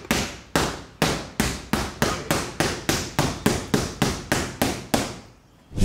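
A hammer strikes the glass of a Fiat Uno car in a fast, even series of about fourteen loud, close blows, each a sharp crack with a short ringing tail, with no talk over them.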